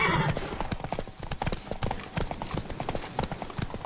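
Horse hooves clip-clop briskly on ground in The Witcher 3, a quick close rhythm of distinct hoofbeats running throughout, with a brief whinny-like sound at the start.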